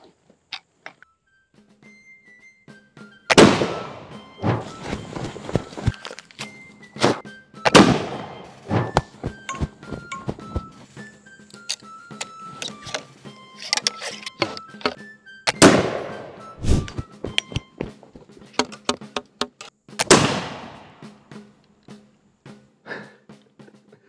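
Sharp, loud blasts from a 1777 Charleville flintlock musket fired at targets, five separate shots spaced several seconds apart, each followed by ringing echoes and clatter.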